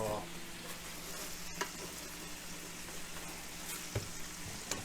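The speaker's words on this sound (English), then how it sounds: "So we're gonna saute this as well. And while that's browning" A pork roast sautés and browns in a pan, a steady close sizzle and fry running throughout with a couple of soft clinks of stirring and no talking.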